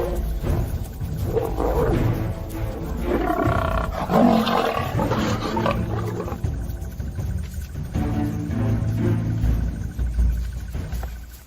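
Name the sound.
lions roaring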